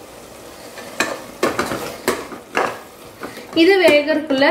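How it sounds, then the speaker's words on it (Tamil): A utensil scrapes and clanks in a pot as masala is stirred into simmering mutton intestine curry, with several distinct knocks and scraping strokes close up, then a voice talks over it. "நம்ம இந்த ஸ்டேஜில் எடுத்து வச்சுருக்கிற மசாலாவை கலந்து விட்டுடலாம்"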